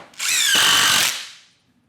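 A DeWalt driver fitted with a Flextorq bit drives into a 2x4, one loud, close whirring burst lasting about a second before winding down.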